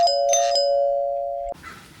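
A mechanical doorbell chimes during a test after a power kit is installed, giving one loud, sustained ding whose tone rings steadily for about a second and a half before cutting off abruptly into faint background noise.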